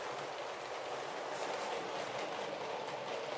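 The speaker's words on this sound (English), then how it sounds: "in the foreground you can see the branch line train arriving from the Abbey station" A model railway branch line train rolls steadily into a junction from the Abbey station, giving a continuous, even rumble and hiss with no talking.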